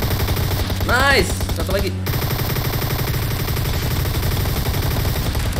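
Gunfire in the mobile battle royale game PUBG Mobile, heard as rapid automatic bursts that run steadily through the clip under excited voices and background game sound.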